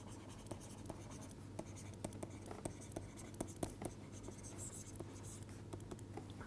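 Chalk or marker scratches across a board during a physics lecture on the classical ideal gas, faint irregular strokes and taps in quick succession under quiet room hum, with soft speech mixed in.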